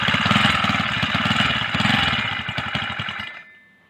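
A small tip-bike motorbike engine running on with its fuel tank switched off, a steady close, loud putter that fades and dies away near the end.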